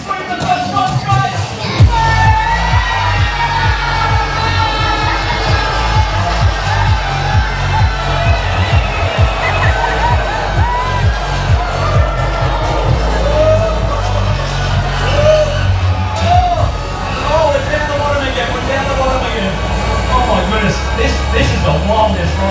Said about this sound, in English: Now when we go over the top, you're going to scream like you have never screamed before, out of pure thrill, out of pure enjoyment.